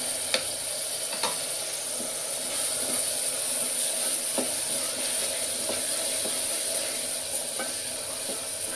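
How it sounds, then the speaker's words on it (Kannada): Onion and ginger-garlic paste frying in a pan for chicken liver fry makes a soft, steady sizzling hiss, with occasional light spoon clicks as it is stirred. "ಈರುಳ್ಳಿ ಫ್ರೈ ಆಗ್ತಾ ಇದೆ ಇವಾಗ ನಾನು ಇದಕ್ಕೆ ಶುಂಠಿ ಬೆಳ್ಳುಳ್ಳಿ ಪೇಸ್ಟ್ನ ಒಂದು ಸ್ಪೂನ್ ಆ್ಯಡ್ ಮಾಡ್ಕೊಳ್ತಾ ಇದ್ದೀನಿ"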